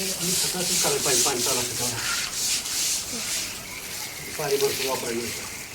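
Steady scraping and rubbing of a scrub brush on a wet terrace floor with water, continuous and fairly close, with people talking over it at the start and again near the end.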